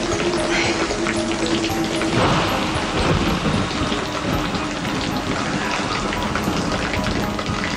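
Steady heavy rain pours down across the whole stretch, with a deep rumble of thunder rolling through near the middle, dense and continuous with no talking over it.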